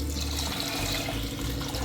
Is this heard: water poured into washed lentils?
yes